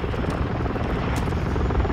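A helicopter called in for air support in the shooter game Modern Warfare II, a steady loud rotor thrum and wash filling the whole moment with no clear voices.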